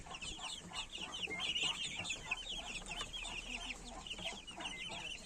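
A small flock of young chickens clucks and peeps continuously nearby, a busy overlapping chorus of soft calls at moderate volume, with no one speaking.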